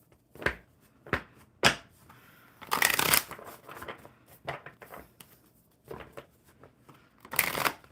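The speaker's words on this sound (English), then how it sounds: "I'm going to shuffle these for Lizzie, and you can choose your oracle" Someone shuffles a deck of oracle cards by hand, producing quiet papery riffles and flicks in irregular bursts, with two longer, louder riffling runs and brief pauses between.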